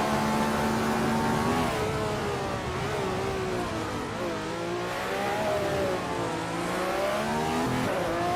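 A 1967 Ferrari 312 racing car in a video game, its engine droning steadily with pitch rising and falling through gear changes, loud and continuous with no voices.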